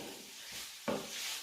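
Tortellini frying in oil with a dash of Maggi seasoning give a soft, steady sizzle, with a brief stirring clatter near the middle; no one speaks.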